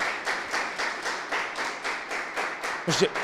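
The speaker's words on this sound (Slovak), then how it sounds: "Tak ja poprosím na veľký potlesk pre naše úžasné dámy z Výskumného ústavu bezpečnosti práce." Audience at a closing workshop giving the guests a round of rhythmic applause, steady claps pulsing in even beats for a few seconds, with a brief voice near the end.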